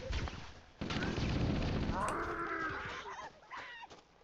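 Assault rifle fire in Halo CE, a dense, loud burst of rapid shots followed by crashing impacts, whooshing effects and scattered game noise as the volley trails off.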